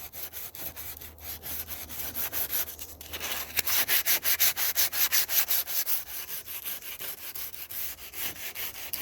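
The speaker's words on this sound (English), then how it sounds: "back at it with some sandpaper here" Wood is hand-sanded with sandpaper while decking and rail work is done on a boat's breast hook, giving continuous rhythmic back-and-forth scratchy rubbing strokes, close and steady for the whole stretch, picking up in pace midway, with no talking.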